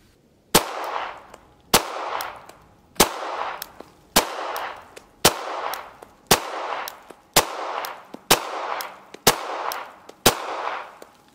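Beretta APX pistol fired at a range target: nine evenly spaced sharp shots about a second apart, each loud crack trailing into a brief ringing echo.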